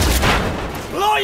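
Gunfire in the video game Cyberpunk 2077, a loud burst of shots up front followed by a trailing rumble and a rising tonal whine, with a voice shouting over the action.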